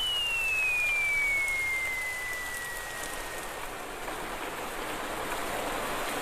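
Rain falls steadily in a Doraemon cartoon, a broad constant hiss that starts loud and eases slightly, with a thin descending whistle-like tone near the start and no voices.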